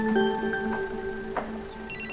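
An incoming-call ringtone on a mobile phone plays as steady electronic tones, moderately loud and near, ending with a brighter burst of chimes over quiet room background.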